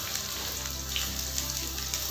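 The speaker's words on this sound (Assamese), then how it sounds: "সয়াবিনখিনি মই মিডিয়াম টু হাই ফ্লেমত 5 মিনিটমান সময়ৰ কাৰণে ভাজি ল'ম" Soybean chunks fry on a medium-high flame, giving a steady, close sizzle and crackle with no pauses or talk.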